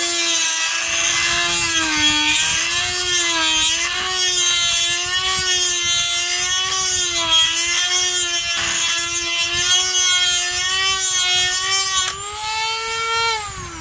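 A rotary tool fitted with a small grinding stone files plastic out of the nut-driver opening in an RC wheel hub, a loud, continuous high whine that wavers in pitch as it bites, up close and alone.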